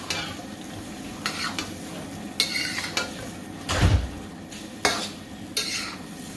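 Rice noodles for drunken noodles are stirred in a Teflon pan, with scraping, clacking utensil strokes and a soft thump over a steady sizzle, close and moderately loud, no voices.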